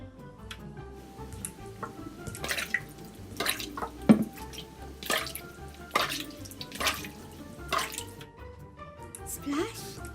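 Water splashes in repeated bursts over background music, with a voice talking between them.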